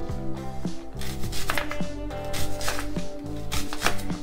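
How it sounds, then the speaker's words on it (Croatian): Onion chopped into rings by hand with a knife, a steady run of quick, crisp cuts tapping on a board over background music, each stroke close and distinct. "prvo ćemo malo da nasjeckamo luk"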